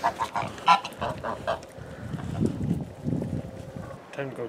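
Geese honk in a run of short, nasal calls over the first second and a half, followed by a busy mix of lower honks and movement, fairly close, on a Canadian homestead.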